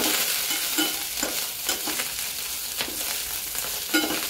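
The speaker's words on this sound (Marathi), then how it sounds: "आणि तिला परतून घ्यायची फोडणीमध्ये" Harbara (green chickpea) greens stir-fried in a garlic tempering, with a steady sizzle and repeated scraping stirs of a spatula through the pan, close and moderately loud, with no talking.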